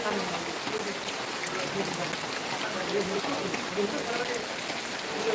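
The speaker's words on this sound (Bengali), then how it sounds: "বৃষ্টি কিন্তু ধীরে ধীরে কমে যাচ্ছে" Steady rain patters on surfaces nearby, a continuous soft hiss with faint droplet ticks and a few low background sounds.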